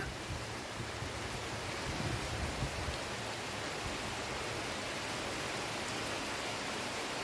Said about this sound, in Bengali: কি জোরে বৃষ্টি পড়ছে।